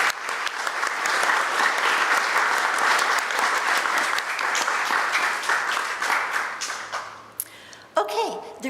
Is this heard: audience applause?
yes